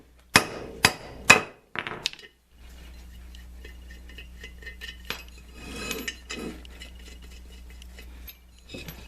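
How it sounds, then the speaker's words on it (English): Hammer blows on a truck rotor and hub assembly: three sharp metallic strikes in quick succession, followed by quieter knocks and clinks over a steady low background hum. "You don't want to hammer on just one or two threads."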